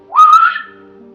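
A man imitates a whistle he heard in the Maine woods of the Allagash, a single rising then level whistle about half a second long, close and clear.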